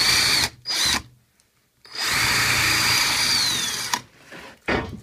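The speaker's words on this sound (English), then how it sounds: "aim your drill bit, get it started flat." Loud power drill whirring while drilling angled pocket holes in wood, two short bursts, then a long sustained run with pitch shifting, followed by brief quieter spurts; no voices.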